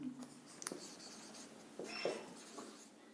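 A word is written on a board with scratchy, continuous marker or chalk strokes and short taps between letters, close and steady over a low room hum.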